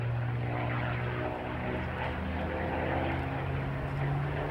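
Spitfire with a Merlin 45 series engine flying over at an airshow, a loud continuous propeller drone with steady low engine tones throughout, heard without talk.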